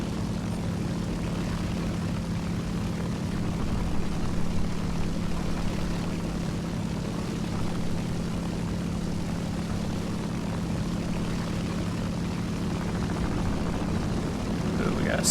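Propeller aircraft engines drone steadily in War Thunder aerial combat, a loud continuous hum with a strong low tone that holds without break throughout.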